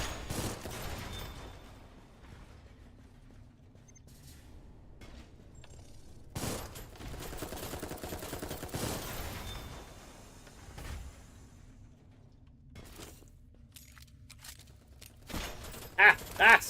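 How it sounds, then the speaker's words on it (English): In a video game demo, faint bursts of gunfire aimed at the player crackle in sporadic clusters over a quiet, rumbling ambience, with a few sharper, louder shots near the end. "Something's shooting at me."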